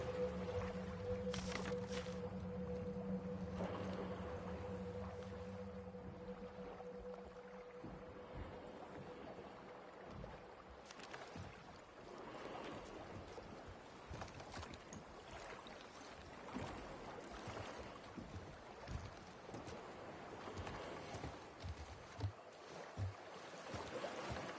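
A boat moving across water in the video game The Last of Us Part II, a continuous low engine drone and watery wash with a tonal hum early on, steady and fairly close.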